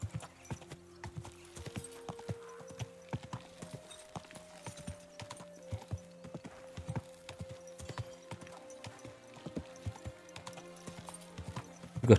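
Rhythmic clopping of horse hooves at a steady pace in Kingdom Come Deliverance 2, close and regular for the whole stretch, beneath a quiet sustained music tone, with no one talking.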